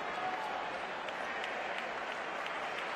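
A basketball arena crowd applauds and cheers for a player after he runs the floor. The roar is steady and dense throughout, with no clear individual voices.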